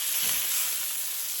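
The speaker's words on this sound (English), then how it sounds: "we're gonna start water frying" Food sizzles and hisses steadily in a hot pan during water frying, a dense, continuous crackle that stays close and loud for the whole moment, with no voices.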